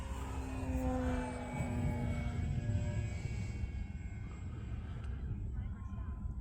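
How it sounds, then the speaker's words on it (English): An Arrows Husky Ultimate RC airplane flying on 6S power, its motor drone sustained and fairly loud, fading slightly as the throttle comes back during a roll, with faint background noise. "Bringing the throttle in as I roll that."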